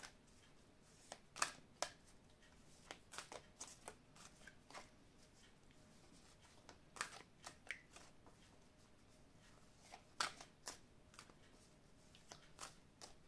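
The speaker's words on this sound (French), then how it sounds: "Donc on va mélanger les cartes ici et on va voir ce qu'on nous dit." Oracle cards being shuffled by hand, a quiet run of crisp riffling bursts and flicks that recur irregularly, close up and alone over a faint background.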